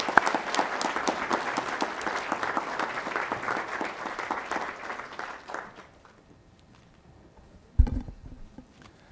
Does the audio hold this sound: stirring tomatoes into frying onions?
no